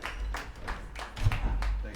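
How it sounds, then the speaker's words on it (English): A small audience claps for a co-host being introduced at the start of a live music show, the claps landing in a loose, pulsing rhythm of distinct bursts with some voices murmuring underneath. "I want you guys to give a big round of applause to our co-host, David Hidalgo."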